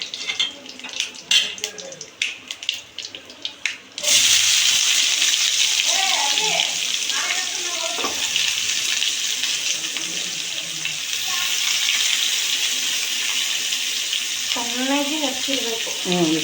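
Chopped onion frying in oil in a pan for a traditional home recipe, a loud steady sizzle that starts abruptly and keeps going, with a voice talking over it at intervals.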